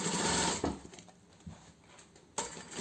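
A sewing machine stitches the hem of a cushion cover with short backstitching, giving a close mechanical whirr that stops and restarts after a quiet pause.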